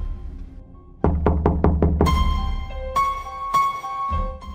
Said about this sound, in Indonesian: Istri Pak Nasir pun mengetuk pintu kamar mandi